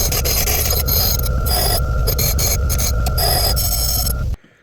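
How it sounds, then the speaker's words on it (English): Steady, loud, close grinding of small metal tabs off an RC truck skid plate, continuous abrasive rasping for several seconds before cutting off abruptly. "I gotta get these other little tabs ground off"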